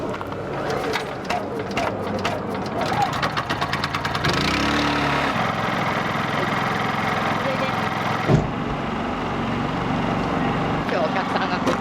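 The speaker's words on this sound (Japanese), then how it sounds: "エンジンかけます。" Food truck engine cranking over and settling into a steady idle outdoors, a mid-pitched rumble under nearby chatter and background noise, with a brief knock partway through.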